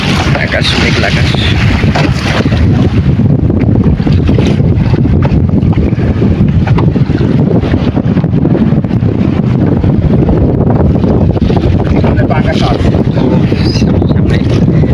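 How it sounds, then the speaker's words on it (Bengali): Large river waves during a storm from a fishing boat, with loud buffeting wind and churning water rushing continuously close to the microphone, a voice partly under the roar. "অনেক ঢেউ নদীতে, দেখেন ও কি পরিমাণে ঢেউ হইতেছে, পুরা ভয় করতেছে"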